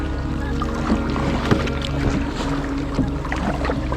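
Kayak paddle strokes splashing rhythmically through choppy sea off East Lothian, with a low rumble of wind and sea underneath, close by.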